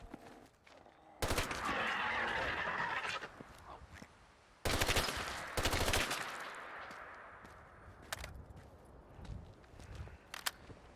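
Rapid bursts of gunfire against zombies in the video game Fallout 4, loud automatic volleys with sharp single shots between them, on a background of low game ambience.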